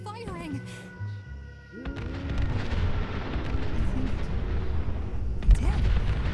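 Gunners open fire in Fallout 4, a dense rumble of repeated gunshots and booming blasts building after a short pause and continuing steadily, with game characters talking over the barrage.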